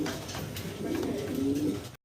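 A black Pomeranian pouter pigeon coos close by, a low throaty warble that swells and rolls for about two seconds before cutting off.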